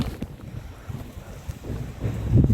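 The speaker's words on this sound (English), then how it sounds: "Oh, it's windy, it's getting windy." Gusty wind buffets the microphone in a vegetable garden with low rumbling bursts that build louder toward the end, with no voices.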